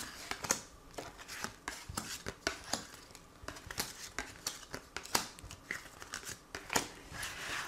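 Tarot cards being shuffled and drawn during a spring Scorpio reading, a close run of crisp papery snaps and soft shuffling flicks in an irregular rhythm, with no voice over it.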